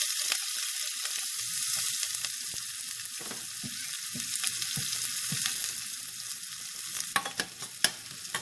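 Dry red chilies, curry leaves and shallot tempering in hot oil for a winter melon curry, a loud, bright, steady sizzle with crackling pops and a few louder spatters near the end, without speech.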